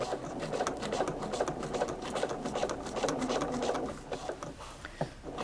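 A sewing machine stitches piping onto an EL wire pillow, running in a steady, close, continuous whir with a fast needle patter and a brief slowdown near the end.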